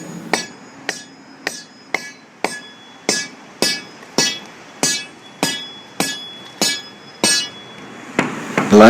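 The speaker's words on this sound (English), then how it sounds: "This is a delaminated area being sounded with the sounding rod." A sounding rod taps a delaminated area of concrete deck about fourteen times in a steady rhythm, each strike a sharp, ringing knock, close and clear with no talking.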